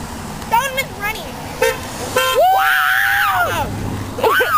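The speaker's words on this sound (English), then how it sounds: "Honk your horn!" Car horns honking from passing traffic on a street, several short toots followed by a longer sustained honk, loud and close, with people shouting and cheering over them.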